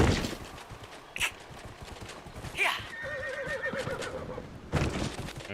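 A horse in Dragon Age: Inquisition whinnies loudly twice amid clip-clopping hooves, with a brief rising neigh midway and scattered game effects around it.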